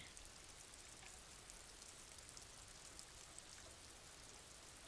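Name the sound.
rain in the video game Disco Elysium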